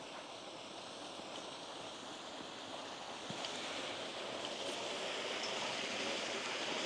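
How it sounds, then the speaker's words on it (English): Water pours steadily off the end of a sea wall weir at Dawlish, a constant broad rushing wash with wind in the background that grows slightly louder toward the end. "Nice little waterfall, shame no one's gonna see it."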